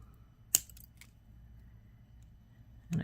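Small jewelry clippers cut through fine metal chain links while making earrings. Two sharp, close snips land a couple of seconds apart against a quiet background.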